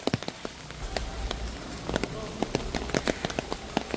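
Heavy rain pours at the Gupteshwar Mahadev cave in Pokhara, Nepal: a dense, continuous hiss of falling water broken by close, sharp drips and splashes hitting nearby surfaces.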